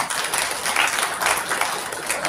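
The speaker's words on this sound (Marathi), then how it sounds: "टाळ्या." Applause for a speaker at a public gathering comes as a short burst of dense, even clapping from many hands, fairly loud and close.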